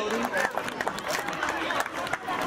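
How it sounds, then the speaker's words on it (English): Applause and cheering from a crowd at an outdoor school sports meet, honoring the winners of the 4x100-meter relay, a steady dense clatter of clapping with voices mixed in throughout. "please clap for the winners of the 4x100-meter relay"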